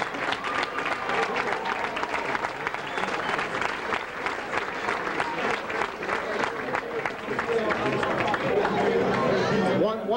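Audience at a high school football all-star game banquet in Philadelphia applauds the standing fathers, dense steady clapping from a large crowd throughout, mixed with cheering and a low murmur of voices.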